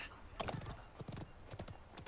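A ridden horse mount gallops in the video game Realm Royale, its hooves sounding as a quick, rhythmic run of clip-clop beats, fairly close and clear with no talking over it.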